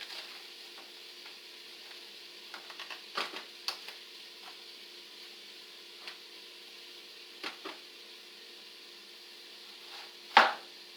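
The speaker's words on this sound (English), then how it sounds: "I'm going to start chopping this up." A knife chops cabbage into small pieces on a board: scattered light, crisp taps, some in quick clusters, with one louder sharp chop near the end over a faint steady background hiss.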